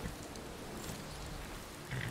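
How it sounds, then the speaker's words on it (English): Steady rain falls in the Skyrim video game, a faint, even hiss of drops that holds throughout with no voices. "This rain is making my steed's hair frizzy."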